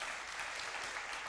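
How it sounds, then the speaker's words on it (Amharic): A church congregation claps at a sermon: a brief, dense burst of many hands, broad and continuous, with no talk. "አጨብጭቡ ለእግዚአብሔር ክብር።"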